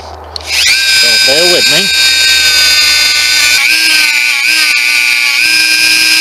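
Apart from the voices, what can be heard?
Dremel wire wheel removing rust from a pistol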